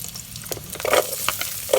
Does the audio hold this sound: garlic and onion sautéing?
yes